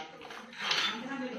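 Toy kitchen dishes and a small spoon clink during a child's pretend tea and cooking play at home, light scattered taps of plastic or metal under a child's chatter.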